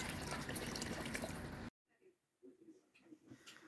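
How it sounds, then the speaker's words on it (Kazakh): A loud rush of about 3 litres of water pouring steadily into a soup pot, cutting off abruptly, followed by quiet speech. "Сосын 3 литр су құямыз."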